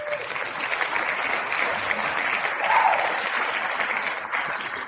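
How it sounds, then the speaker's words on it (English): Continuous crowd applause fills the whole stretch, a dense even patter of many hands at moderate distance that swells slightly near the middle before easing off. "Here's applause for you, too."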